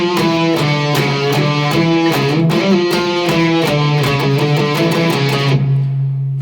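Guitar in standard tuning playing the intro riff of a song from Arcane Season 2, a steady repeating sequence of bright picked notes, loud and close, ending on a sustained ringing note with no voice.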